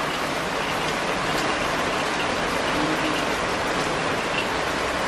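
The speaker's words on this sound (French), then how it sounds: "Bon, ça pleut encore, hein, mais c'est trempé, quoi." Steady rain falls in a continuous, loud, even hiss with dense pattering and no pauses or voices.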